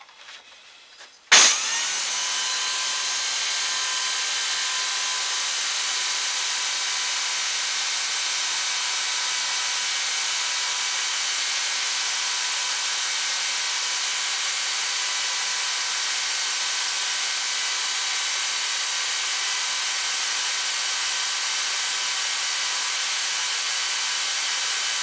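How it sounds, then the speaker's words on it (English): Belt sander held by hand grinding down a loose, unclamped part from a Briggs and Stratton Intek engine's choke mechanism, starting with a sharp hit and then a steady, loud, unbroken whine and rasp that runs on without a break. "I've got to use one hand to hold the belt sander and one hand to hold this"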